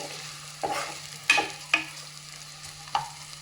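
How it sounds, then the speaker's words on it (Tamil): Onions sautéing in a pan for mutton biryani, a low steady sizzle broken by a few sharp spoon scrapes and knocks against the pan, close and with no talking. "வெங்காயம் வந்து நல்லா வதங்கிடுச்சு"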